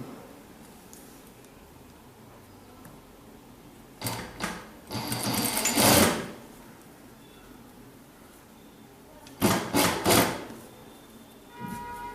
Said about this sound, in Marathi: पाव इंचाच्या अंतराने आपण शिवून घेणार आहोत